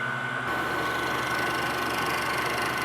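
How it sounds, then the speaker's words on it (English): A ball end mill spinning at about 900 to 1000 RPM cuts checkering into the front strap of a 1911 pistol on a rotary table fixture, giving a steady, loud machine drone with no talking. "ball end mill that I'm going to use, spin at about 900 to 1000 RPM"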